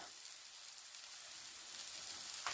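Spaghetti squash fritters sizzling in a frying pan, a soft, steady crackle of hot oil that holds level throughout with a slightly louder pop near the end.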